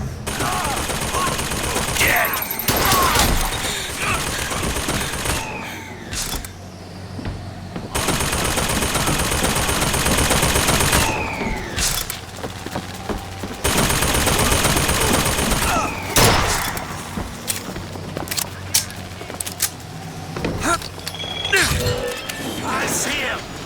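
BioShock Infinite gunfire: rapid bursts of automatic shots and heavy single cracks hammer through a chaotic firefight, loud and close, broken by short lulls, with shouted voices and other game sounds mixed in.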